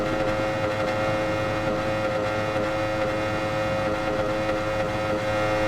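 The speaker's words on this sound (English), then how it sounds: "Hitting the rev limiter like that." Motorcycle engine in the racing game Ride 4 during a Daytona race, held against the rev limiter in a loud, sustained, buzzing drone that stays steady without pause.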